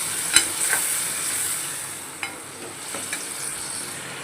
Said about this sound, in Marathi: हलवून घ्यायचं आहे.